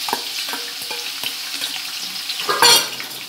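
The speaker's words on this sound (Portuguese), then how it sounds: "Agora a gente vai começar a colocar os ingredientes na panela." Tomato, onion and other vegetables going into a pan of dendê palm oil for vatapá, giving a soft steady sizzle with scattered clinks and stirring, and a louder hissing burst near the end.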